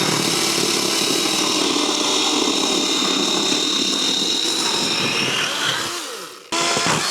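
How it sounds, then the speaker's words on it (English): A loud chainsaw cutting wood at a cabin runs steadily at high revs for several seconds, then winds down and cuts off abruptly before a brief restart. "if I'm running along here with my chainsaw"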